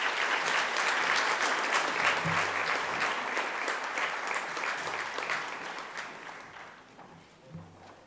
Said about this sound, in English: We can give them a round of applause as well.